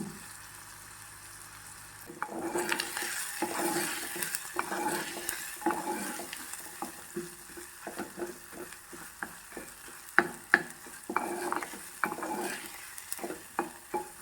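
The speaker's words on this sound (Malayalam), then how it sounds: "ഇനി കുറച്ച് കറിവേപ്പില കൂടി ഇതിലേക്ക് ചേർത്തൊന്ന് നന്നായി വഴറ്റിയെടുക്കാം." Curry leaves sauté in oil in a pan for a netholi (anchovy) fish curry, giving a steady sizzle after a quiet start, with repeated close stirring scrapes and a few sharper utensil knocks against the pan.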